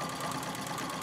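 A Singer 66 treadle sewing machine stitching during free motion quilting, a steady close mechanical whir with a fast even pulse of needle strokes, continuous and unbroken.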